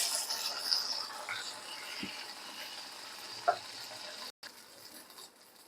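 Unniyappam batter fries in hot oil in an ordinary pan rather than an appam mould, giving a steady, close sizzling hiss with a few faint clicks of utensils and no talking.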